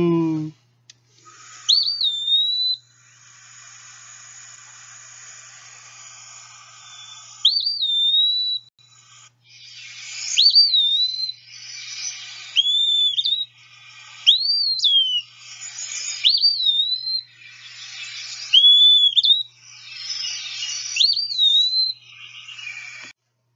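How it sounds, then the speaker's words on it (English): Eastern Wood-Pewee calling in the open, a clear slurred whistle repeated about eight times at irregular intervals of a few seconds, each note rising then dipping, fairly close against quiet background. "The eastern Wood-Pewee, like the Phoebe, is named because of the call it produces."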